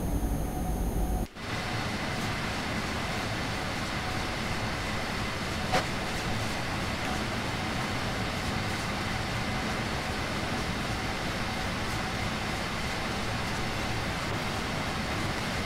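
An HSL Class 185 electric locomotive runs on the Munich–Augsburg line in a train simulator game, a steady unbroken rolling rumble and hum with no talking.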